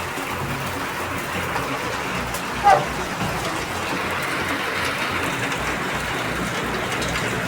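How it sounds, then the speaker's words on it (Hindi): Heavy rain drums steadily on a metal sheet roof during a storm, a dense continuous clatter close overhead, with one brief louder knock early on. "क्योंकि ये चदरे का छत है ना, इसलिए वो थोड़ा बारिश आता है तो खटर खटर करता है"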